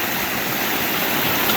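A creek on a forested hiking trail rushes loudly and continuously close by, a dense, even roar of flowing water with no pauses and no voices.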